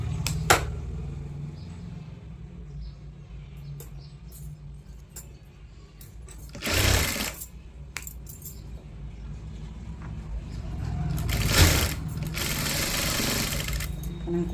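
A sewing machine stitches a blouse in steady mechanical runs with short bursts of faster sewing, close and fairly loud, while someone talks over it at times.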